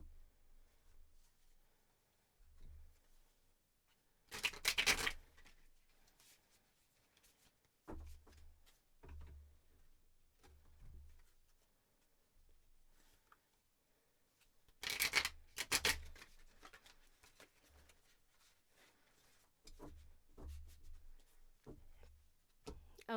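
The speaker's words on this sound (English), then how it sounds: "I'm just going to shuffle a few more times." Tarot cards are riffled and shuffled in a few bursts, with soft rubbing and tapping between them, close and fairly quiet, no talking.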